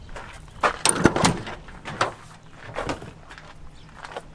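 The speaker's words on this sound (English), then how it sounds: "All three doors open" Doors on a lifted three-row Cadillac being opened, a few separate clunks and latch clicks spread over several seconds, close by and moderately loud, with faint handling noise between.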